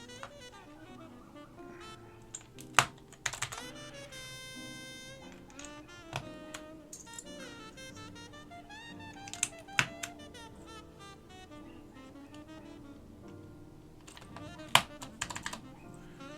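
Typing on a Northgate OmniKey 102 keyboard fitted with Alps SKCM Black switches, a fairly quiet run of crisp key clicks in bursts with a few louder sharp strikes, with some tonal background sounds underneath.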